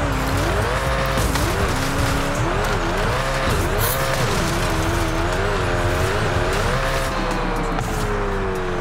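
In a video game, a car speeds up to jump over a small lake, its engine droning loud and steady with a wavering pitch and some tire squeal, alone with no talk.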